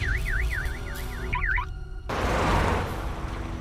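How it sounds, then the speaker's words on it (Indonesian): A car alarm wails in a rapid rising-and-falling siren pattern, then cuts off abruptly, leaving a burst of rushing noise. "tiba-tiba alarm mobilnya berbunyi"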